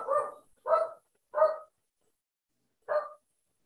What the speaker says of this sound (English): Somebody's got a dog barking. I'm sorry, that's mine.